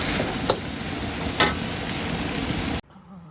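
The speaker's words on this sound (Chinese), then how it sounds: "小白菜，下锅了。" Homegrown bok choy stir-fried in a wok, a loud steady sizzle with two sharp scraping stirs, ending abruptly in near silence.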